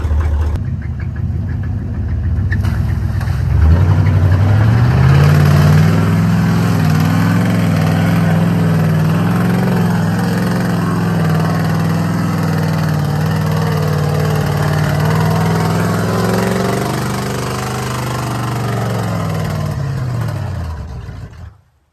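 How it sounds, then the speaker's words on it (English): Mud truck engine on 44-inch Boggers tires idling roughly and close by, a steady loud rumble with uneven lope that holds for most of the stretch before tapering off near the end as if about to stall. "can you hear it right now? Yeah, it's ready. What do you mean it's ready? It's ready to die."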